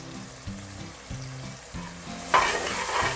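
Tamarind mixture with salt cooking in a pan, a steady bubbling sizzle that grows louder and brighter near the end, close and without speech.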